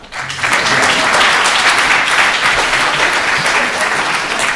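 Sustained audience applause at a student thesis prize event, dense and loud throughout after a brief quieter start, with no talking over it.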